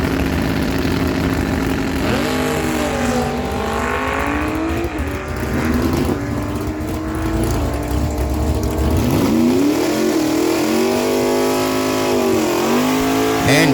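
A Vega car and a 2006 Suzuki GSXR motorcycle launch at a drag strip in Miramichi, engines revving hard and rising in pitch through gear changes, loud and close, with a second rising engine note joining later.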